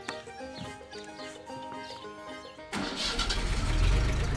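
A cartoon tractor engine in an animated children's show cranks and catches, rising into a loud, rough running rumble after a stretch of light tonal background music.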